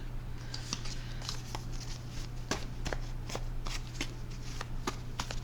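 Tarot cards being shuffled by hand, a run of soft close riffling flicks and snaps over a low steady background hum, with no talking.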